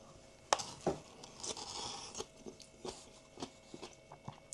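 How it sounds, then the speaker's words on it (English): Close, crisp bites and chewing on a spicy kebab with salad from a takeaway kebab house, irregular crunchy snaps followed by softer mastication sounds, with no talking. "It still has a slight crunch."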